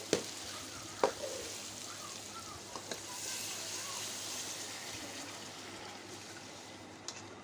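Meat frying in a pot for bannu pulao sizzles steadily as water goes in, with a few sharp clanks of a utensil stirring and scraping the pan.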